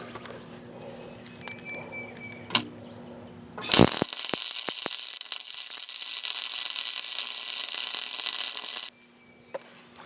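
A wire-feed welder works on a John Deere lawn tractor mower deck, its loud, steady crackling buzz running about five seconds after a sharp strike and cutting off abruptly, with quieter shop noise before and after.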